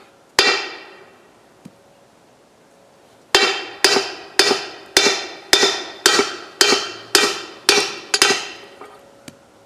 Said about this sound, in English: I'm going to try a manual hammer again